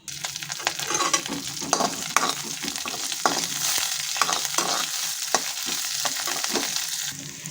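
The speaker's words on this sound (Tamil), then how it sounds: "இப்போது நல்லெண்ணெய் விட்டு கடுகு தாளிக்க போகிறோம்" Steady sizzling of mustard seeds, spices and vegetables frying in sesame oil, with a spoon scraping and stirring the pan in irregular strokes, close up and without talk.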